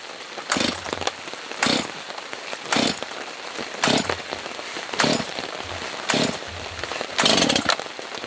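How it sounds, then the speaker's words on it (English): A very small chainsaw revs in repeated short bursts about once a second, each loud buzzing rev dropping back to a softer idle between them, close by. "this is a very small chainsaw"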